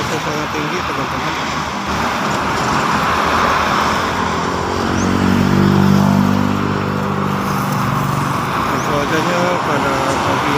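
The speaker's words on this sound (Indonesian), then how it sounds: "Bisa dilihat itu pergerakan kendaraan truk sangat banyak sekali." Heavy truck traffic on the Jakarta–Cikampek toll road in the morning, a steady loud roar of passing vehicles with a swelling engine drone midway, under continuous background noise.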